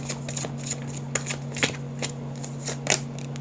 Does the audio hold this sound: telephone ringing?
no